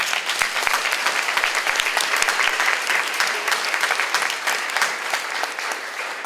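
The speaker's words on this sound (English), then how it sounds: "give a big round of applause again to our board members" Sustained round of applause from a room full of people at a YWCA annual meeting, honoring board members; dense, even clapping that holds steady throughout.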